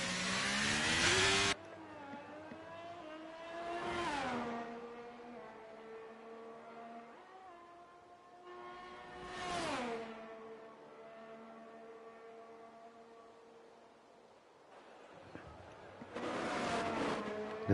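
Race car engines in a racing video game whine and rise in pitch as cars pass and accelerate, several sweeping by in turn with gear changes between, moderately loud under faint commentary.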